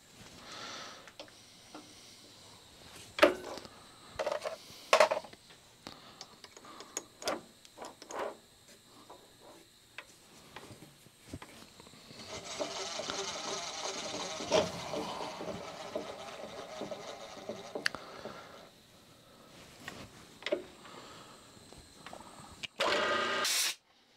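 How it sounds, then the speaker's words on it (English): Milling machine cutting metal while a tool holder for a shaper is being made, a faint, irregular run of ticks and clicks with a steadier grinding stretch in the middle and louder clanks near the end. "that's the standard milling machine work there"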